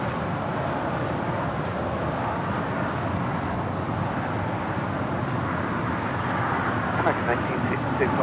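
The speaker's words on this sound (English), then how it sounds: "This Cargo King 222 now rolling on 25 left to Shanghai 777 freighter" A Boeing 777 freighter on the Cargo King 222 flight to Shanghai begins its takeoff roll on runway 25 left at LAX, a steady broadband jet roar that stays fairly loud and constant throughout, with faint talk mixed in.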